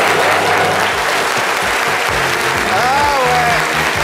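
A studio audience claps loudly and continuously to welcome a guest onto a French-language show, the applause over background music, with voices calling out briefly on top.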